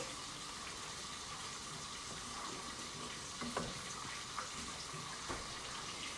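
Ham browning in a pan gives a steady, quiet sizzle and crackle, with a few brief utensil taps or stirring clicks and no talking.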